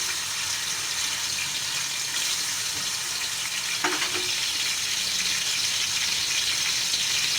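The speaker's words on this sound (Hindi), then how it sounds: "अब मैं पतीली के अंदर 2 खाने के चम्मच अदरक लहसुन का पेस्ट डाल दूंगी।" Ginger garlic paste sizzling in hot oil in a cooking pot while making pulao, a steady loud frying hiss throughout with a brief clink or stir partway through.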